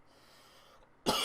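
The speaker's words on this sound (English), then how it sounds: "I know coughing is very unprofessional" A single short, sharp cough bursting out at the very end after near silence, close and loud, no speech.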